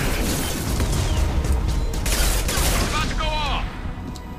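Enemy gunfire in Mass Effect 2, with dense rapid bursts of shots and impacts crackling loudly and continuously, mixed with game effects and voices from the game.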